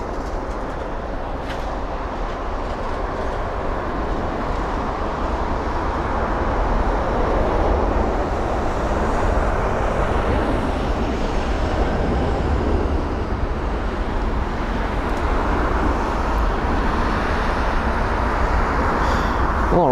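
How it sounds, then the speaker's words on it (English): A British Airways Airbus A380 airliner at London Heathrow gives a steady, loud broadband roar that holds for the full stretch without any talk. "Here's the British Airways A380."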